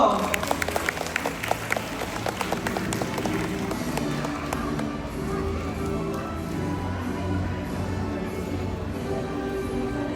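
Audience applause at a graduation ceremony, a dense run of claps that starts crisp and loud, then settles into a steady, slightly softer roar of many hands clapping together.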